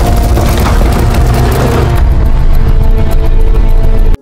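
Mortar grenades (Weper 36) fired by German infantry at possible Russian hideouts in a war film, heavy booming blasts rolling continuously and loud with dense rumbling debris, ending abruptly.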